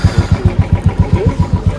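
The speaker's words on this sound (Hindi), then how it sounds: "तो फाइनली भाई की बाइक स्टार्ट हो गई" A Royal Enfield motorcycle that had been failing in Leh Ladakh fires up and settles into a loud, close, steady single-cylinder thump, with evenly spaced beats throughout and no talk.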